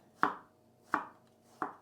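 Three evenly spaced knife chops halving fresh white mushrooms on a cutting board, each a crisp thud, close and distinct with quiet pauses between.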